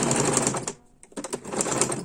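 A sewing machine stitches fabric pieces together for a cloth ball, running in a steady close whir that pauses briefly mid-way before starting up again.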